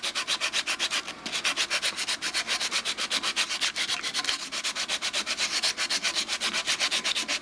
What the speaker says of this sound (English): I want to roughen this whole area up